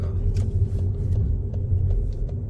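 Car interior during a driving lesson, slowing and pulling over to the right: steady low engine and road rumble throughout, fairly loud and close, with faint clicks and rattles on top and no talk.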